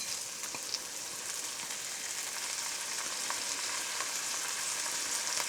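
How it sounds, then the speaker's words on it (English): Washed rice goes into a hot pan for hamam mahshi, giving a steady, close sizzle and crackle with scattered small pops throughout, no voices. "Our next step is to add in our washed rice."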